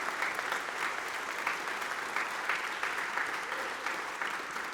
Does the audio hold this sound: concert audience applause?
yes